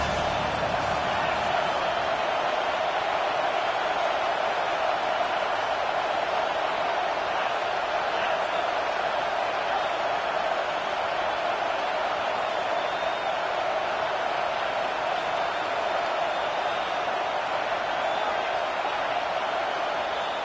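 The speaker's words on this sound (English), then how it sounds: "This crowd trying to make life miserable for this offense." A packed stadium crowd at a basketball game roars in a steady, loud, unbroken wall of cheering and noise aimed at the opposing LSU offense, with a commentator's voice faintly beneath it.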